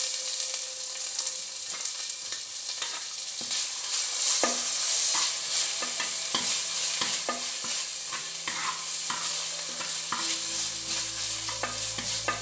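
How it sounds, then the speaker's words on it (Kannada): Tomato frying in a pan, giving a bright, steady sizzle with scattered clicks and stirring scrapes, heard close and continuous with no speech. "ಇದು ಟೊಮೆಟೊ ಶೋಕುದು ಫ್ರೈ ಆವಡು"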